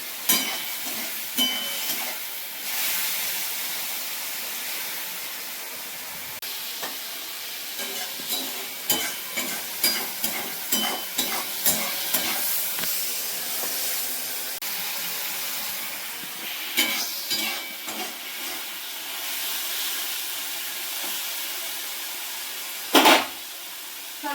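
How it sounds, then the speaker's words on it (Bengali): Straw mushrooms fry in a pan with a soft, continuous sizzle, punctuated by a run of rhythmic scraping stirs in the middle and a few louder clinks near the end, close up with no talking. "তারপরে অল্প ভাজবো, লবণ দিলে আরো বেশি জল বেরোতো, তো অল্প ভেজে নেবো, তুলবো।"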